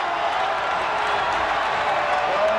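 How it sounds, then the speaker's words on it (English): A basketball arena crowd at a 1994 NBA playoff game between the Jazz and Nuggets reacts to a disallowed shot from behind midcourt, a dense, sustained roar of voices with scattered clapping and cheers. "And listen to this crowd."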